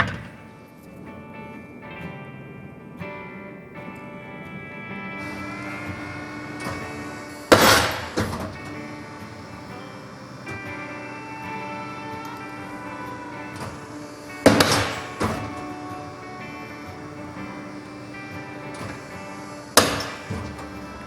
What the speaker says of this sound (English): So we'll trim these up in the nibbler and then sand it up